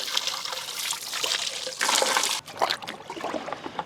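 Water pours and splashes into a container as a curd-pulp fertilizer mix is diluted, a close, bright rushing stream that surges midway, then breaks into uneven trickles and splashes.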